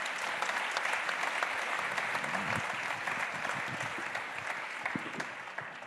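A conference audience gives a steady round of applause, a continuous, fairly quiet wash of many hands clapping with no voices.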